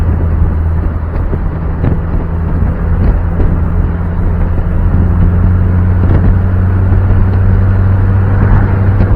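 A Mazda Miata cruising at highway speed gives a steady, smooth engine drone with a low hum, mixed with continuous road and wind rush throughout.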